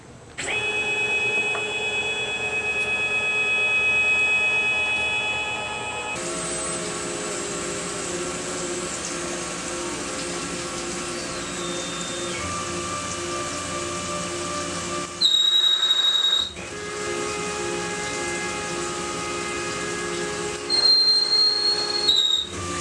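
A Tormach PM-940 CNC mill cuts a back chamfer on a part in a 50-piece production run, giving a steady machining drone with whining spindle tones that shift in pitch at several points, loud and continuous with brief changes near the end.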